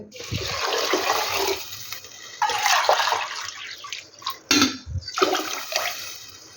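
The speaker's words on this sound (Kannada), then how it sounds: "ಈಗ ಮೂರು ಪಟ್ಲು ನೀರು ಹಾಕ್ಕೊಂಡಿದ್ದೀನಿ" Water pours in three splashing bursts into a metal pressure cooker, stopping and starting between pours, close and fairly loud.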